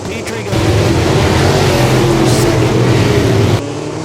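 Modified race cars roar past at Thunder Mountain Speedway on a double-file restart, a loud, sustained engine drone that swells and then cuts off abruptly.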